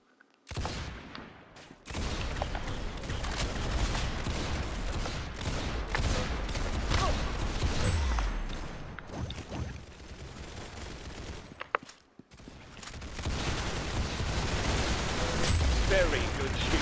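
Gunfire in the Roblox video game: sustained bursts of shots layered with mechanical clicks, fairly loud and dense for most of the stretch, with a few short gaps, while a voice talks over it now and then.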